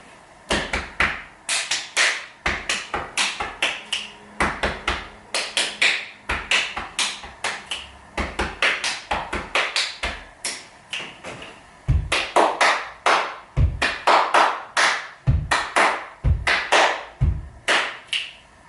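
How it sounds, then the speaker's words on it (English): Body percussion performed in a sequence of chest pats, hand slaps, foot stamps and claps, sharp rhythmic hits arriving in quick grouped bursts with brief pauses, close and crisp, with heavier thuds from the stamps. "combine it with the sequence we've done the last time, which is chest, hand, hand, hand, yeah? And add the stamp and clap section to it."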